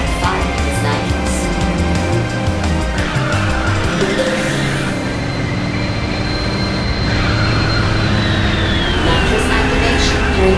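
Race car drifting with nitrous boost in the video game Ridge Racer 6, a steady loud engine roar with rising whine and tire noise throughout, backed by game music.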